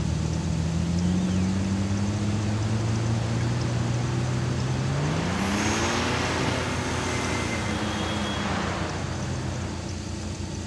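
An off-road vehicle engine driving through snow while hill climbing and wheeling, a steady droning hum that rises and shifts pitch midway, with a constant loud wash of noise and no talk.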